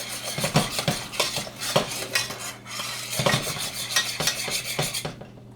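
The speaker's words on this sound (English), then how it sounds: "I scrape the sides, and I stir it constantly" Boiling fudge is stirred in a pot, a spoon scraping and clanking against the sides in a quick irregular rhythm, with a faint bubbling sizzle and a steady low hum underneath.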